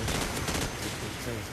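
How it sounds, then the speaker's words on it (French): Dense, sustained gunfire bursts in the Call of Duty 4 video game, a continuous rattle of rapid shots filling the whole moment at steady loudness. "je tire 2 rafales dessus"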